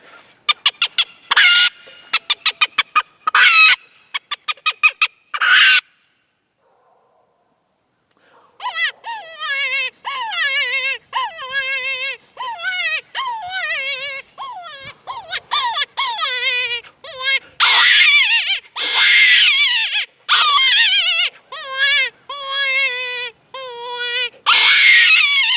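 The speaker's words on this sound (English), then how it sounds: "It does a great rabbit distress, chicken distress" A Kenmore Kottontail predator call gives out rabbit and chicken distress sounds: rapid, shrill, wavering squeals in bursts, then a pause, then long runs of loud, cry-like wailing squeals.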